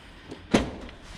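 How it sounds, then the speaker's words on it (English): A Mini Clubman's rear door opening with a short, solid thunk, close by, against a low background hum. "Just opening those doors up,"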